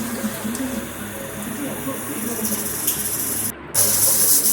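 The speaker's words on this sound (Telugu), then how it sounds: "ఫ్లేమ్ పెంచుకున్న తర్వాత ఆవిరి వస్తుంటుంది." A pressure cooker of mutton curry hisses steadily as steam builds after the flame is turned up, a continuous broad rush that briefly cuts out, then returns as a louder, brighter jet of escaping steam.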